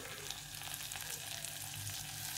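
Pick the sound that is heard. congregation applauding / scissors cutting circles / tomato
tomato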